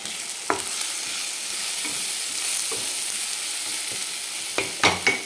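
Egg fry masala of chili, coriander-cumin powder, turmeric and salt being stirred in a kadhai, with a steady soft sizzle and a few scraping spoon strokes, the sharpest near the end.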